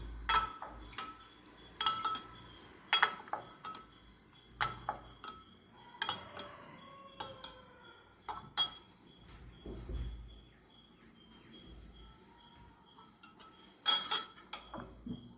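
A spoon clinking against a glass or vessel while salt is stirred into spiced buttermilk, a series of light, irregular metallic taps and chinks in a quiet room.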